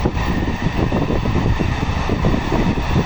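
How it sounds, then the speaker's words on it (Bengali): A loud, steady rumble with clattering texture runs throughout, a large Saudi Arabia Railways (SAR) train rolling past close by, with no voices. "ট্রেন"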